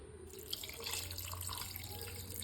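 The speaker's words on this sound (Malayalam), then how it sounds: "നമുക്കിത് വേവാൻ ആവശ്യമായ വെള്ളം കൂടി ഒഴിച്ചു കൊടുക്കാം." Water poured into a pot of Kerala-style botty curry, a continuous soft splashing stream with a faint trickle, steady and close but quiet, with no talking.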